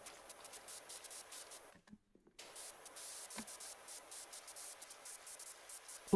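A pressure washer sprays in PowerWash Simulator as a continuous hissing jet, with brief breaks when the trigger lets off and resumes, at a fairly low level.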